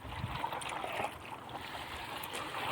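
Water gushes steadily from a 10HP submersible pump repaired at home, making a continuous, fairly quiet rushing and gurgling flow with no talk over it.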